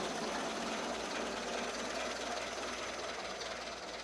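A 1922 Rolland Pilain type R vintage car engine running steadily just after a hand-crank start, a dense, continuous mechanical roar close by with no talking.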